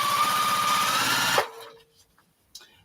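A sewing machine stitches a chicken-panel quilt, its steady fast motor whirring loud and close for about a second and a half before it stops abruptly, leaving near silence with a few small clicks.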